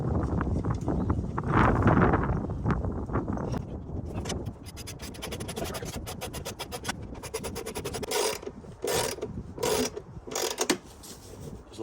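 A ratchet clicks in rapid bursts while the small nuts on a 2014 Ford Focus battery are tightened, starting with rough scraping and clunking before crisp, close ratcheting strokes with short pauses.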